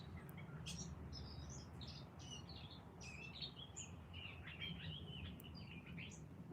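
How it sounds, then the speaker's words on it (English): Outdoors, a bird chirps in quick, repeated high tweets over a steady low background rumble, faint and somewhat distant, with no voices. "That bird is so beautiful."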